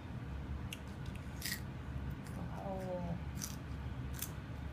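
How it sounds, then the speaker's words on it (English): Crisp, repeated crunching bites of raw cabbage being chewed close up, over a steady background hum, with a brief voice in the middle. "just munching on that cabbage"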